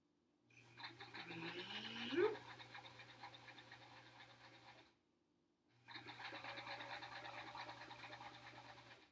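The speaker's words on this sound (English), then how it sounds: "Let's get sewing." A domestic sewing machine stitches a quilt block in two steady runs of whirring needle clatter, separated by a short pause. The sound is close and moderately quiet, with no talking.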